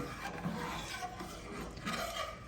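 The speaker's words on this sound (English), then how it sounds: "So your spoon should be scraping" A spoon scrapes across the bottom of a pan of heating milk, making repeated close, rasping strokes at a moderate, uneven pace.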